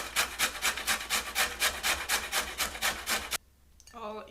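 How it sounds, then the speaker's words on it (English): Food rasped across the coarse, large-hole side of a hand grater in about fifteen quick, even back-and-forth strokes, close and crisp, stopping abruptly before a brief moment of speech. "what I'm going to use for grating is the big eyes, the more coarse side of your grater"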